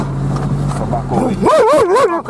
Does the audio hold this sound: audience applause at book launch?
no